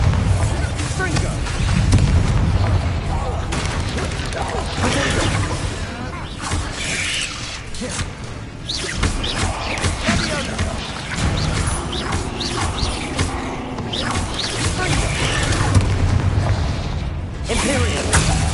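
Spell explosions from the Confringo and Bombarda curses in Hogwarts Legacy on PS5 make loud, dense booms and crashes. They mix with constant combat clatter and a voice, filling the scene without pause.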